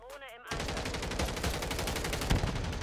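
Rapid automatic gunfire from a Modern Warfare III match on the Terminal map, dense and continuous with overlapping shots and a louder burst near the end, following a brief voice at the start.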